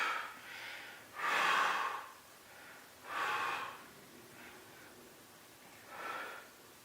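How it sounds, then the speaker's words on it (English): Forceful exhales during planche exercise reps, three loud breaths out at a slow steady rhythm with softer breaths between, heard close and without speech. "relax the head and breathe out to lift."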